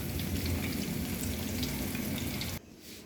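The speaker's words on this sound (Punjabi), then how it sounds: "ਇਹ ਮੈਂ ਇਸ ਤਰ੍ਹਾਂ ਕਰਕੇ ਇਸ ਤਲ ਲਵਾਂਗੀ" Mixed vegetable pakoras of potato, onion, cauliflower and spinach fry in hot oil with a dense, steady crackling sizzle that cuts off sharply near the end, leaving a quieter hiss.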